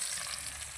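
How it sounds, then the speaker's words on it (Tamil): Sliced big onions sauté in a pan with dried chillies for village-style tomato thokku, a dense, continuous sizzle heard close up with no voices. "வெங்காயத்தை போட்டு நல்லா வதக்கிடுவோம்."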